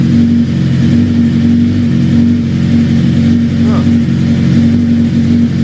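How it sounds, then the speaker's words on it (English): A motorcycle engine idles steadily while warming up after a few days unridden, a loud, constant low throb with a faint hint of revving and no pauses. "Just wanted to warm the bike up for a little bit"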